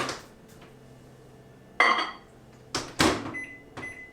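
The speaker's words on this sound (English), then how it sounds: "let me go over to the microwave and melt this really quickly" A microwave oven handled to melt butter: sharp door clunks and bumps, then beeps from the keypad, close and loud in a quiet kitchen.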